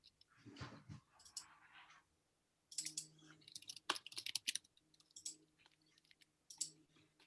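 Fingers typing on a computer keyboard, with quick bursts of close, faint key clicks broken by short pauses.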